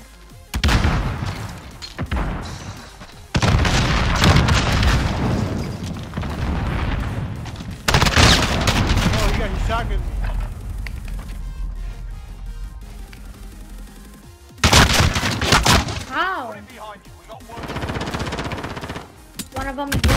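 Battle royale gunfight in a 2v2 tournament: loud bursts of automatic fire and booming shots come in several clusters with brief lulls between, while players talk over the action.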